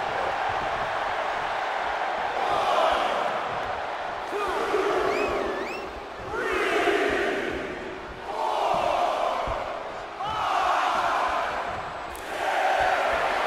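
Crowd roaring and cheering in an arena during a Hulk Hogan match in the WWE 2K24 wrestling video game, a steady dense wash of noise that swells in repeated surges, with faint whistles mixed in.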